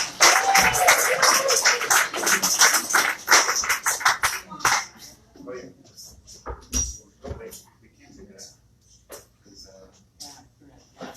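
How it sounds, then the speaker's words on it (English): Dense clapping from an audience at a poetry night for several seconds, then fading into scattered claps amid voices and background chatter. "Keep clapping."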